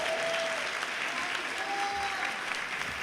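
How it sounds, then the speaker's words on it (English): Steady applause from a Comic Con 2012 panel crowd, dense clapping that fills the whole stretch at an even, fairly loud level with no pauses. "round of applause."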